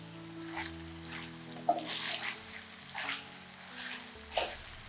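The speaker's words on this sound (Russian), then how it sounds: "И отправляю репчатый лук к обжаренному фаршу." Chopped onion tossed into a pan of browned minced meat, with soft sizzling and a few brief scraping bursts as it lands and is stirred, quiet and close with no talk.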